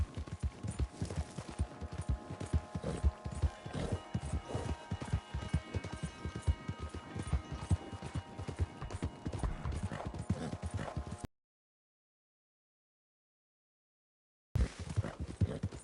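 A horse galloping in Red Dead Redemption 2, rapid rhythmic hoofbeats at a steady pace with rumbling movement, cut by a few seconds of total silence before the hooves return.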